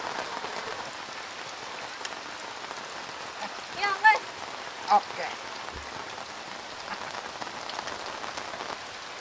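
Steady rain falls on an outdoor surface in a constant, even patter, broken by a couple of brief knocks, with people speaking a few short words nearby.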